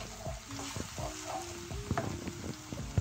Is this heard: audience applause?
no